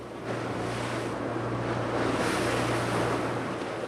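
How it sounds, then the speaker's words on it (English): Ocean waves wash and hiss around a fishing boat out on the Gulf of Mexico off Florida, a broad, steady rush with wind buffeting the microphone and a low engine hum underneath. "We bounced over the waves in the warm Florida air."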